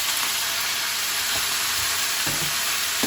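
Leeks and garlic sizzling in a pan while being stirred, a loud continuous hiss with a few scraping knocks from the spoon, no talking.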